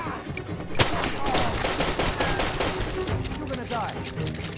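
Gunfire in the video game Far Cry 2, a dense continuous burst of rapid shots and loud cracks filling the clip, with a voice talking underneath.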